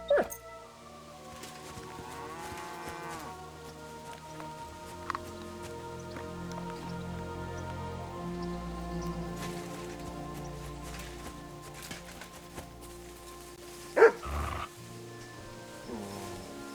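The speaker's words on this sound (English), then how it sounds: "Barking." A dog barks in the rain in the video game Kingdom Come: Deliverance II, with one short, loud bark late on over steady ambient music and faint rain.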